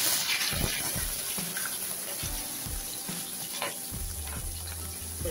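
Steady sizzling of onions sautéing in a frying pan with occasional scraping and stirring knocks, close up and without speech.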